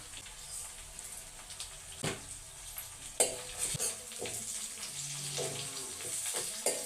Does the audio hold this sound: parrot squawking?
no